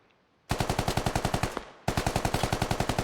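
Rapid automatic rifle fire in a competitive Gorodok skirmish match, two sustained bursts of evenly spaced loud shots separated by a brief pause, close and alone without talk.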